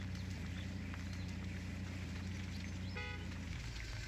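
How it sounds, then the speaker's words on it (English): Truck horn sounding in Spintires MudRunner, a short stacked-tone honk around the three-second mark over a steady loud engine and ambient drone, no talking. "why is my horn honking?"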